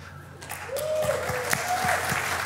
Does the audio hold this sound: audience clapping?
yes